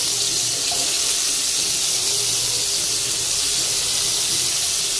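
Potatoes and pointed gourd fry in hot oil in a wok, producing a loud, continuous bubbling sizzle that holds steady throughout with no speech.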